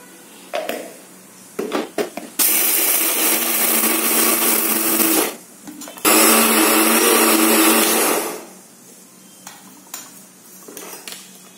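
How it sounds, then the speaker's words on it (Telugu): A kitchen mixer grinder whirs loudly in two long bursts as roasted chana dal (putnalu pappu) is ground to powder, with brief clatter of the jar before and after. "ఫస్ట్ ఏంటంటే ఆ చట్నీ పప్పు, పొట్నాల పప్పు అంటాం కదా, దాన్ని మనం మిక్సీ వేయాలి."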